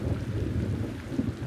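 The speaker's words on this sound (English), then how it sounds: "That night, the rain poured down onto his shed." Heavy rain pours down in a steady low wash of noise, with a deep rumble underneath and no voices.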